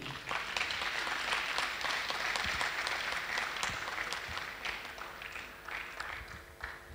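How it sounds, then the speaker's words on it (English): Audience applause at a university technology week session, a steady wash of many hands clapping throughout, moderately loud and fairly near, with no talk over it. "I think they want to clap for you."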